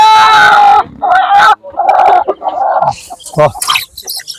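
A rooster crows and clucks up close in loud, broken bursts.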